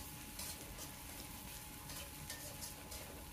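Bay leaves, cinnamon and cardamom fry with spices in a pan, a faint, continuous sizzle with light stirring for a chicken and bottle gourd dish.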